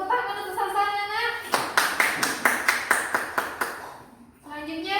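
A first-grade class at an elementary Islamic school claps for a classmate in a fiqh lesson: about eight brisk, evenly spaced claps ring out together, near and clear, with children's and a teacher's voices just before and after.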